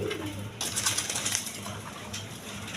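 A pair of Mosoldom pigeons coos in low, throaty calls, steady across a couple of seconds over a rough, noisy background with no voices.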